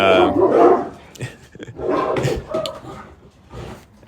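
Several dogs bark and yip excitedly in close, uneven bursts, some sharp barks overlapping with whimpering between them.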